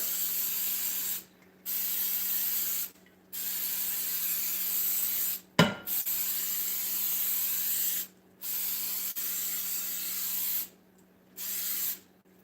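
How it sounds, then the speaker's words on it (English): Cooking spray hisses in about six steady bursts, each a second or two long with short pauses between, as an intricately patterned baking pan is greased in a kitchen. A single clunk sounds midway. "Especially if you're using a pan that's got an intricate pattern, you want to grease it really, really good."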